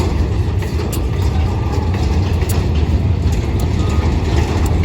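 Freight train 721 pulls out of platform 1 at Surat Thani railway station, Thailand, with a steady, heavy low rumble and faint metallic clanking and squeaks that stay constant and fairly close throughout.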